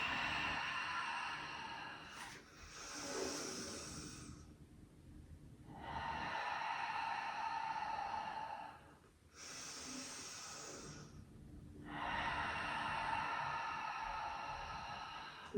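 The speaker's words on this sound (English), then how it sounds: "Make your breath nice and loud." Loud, deliberate yoga breathing during a Bikram standing balance class, with about four forceful breaths through the mouth in alternating inhales and exhales, close and clear against a quiet room.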